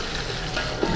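Water is poured into a cooking pot for a meat-bone yakhni stock, a short continuous splashing gush at close range with no talk over it.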